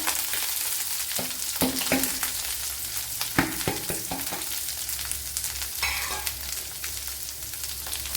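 Chopped onion and green chili sizzling and frying in a pan with curry leaves for a cauliflower thoran, a steady crackle with a few sharper stirring clicks and spatters, close and continuous with no talk.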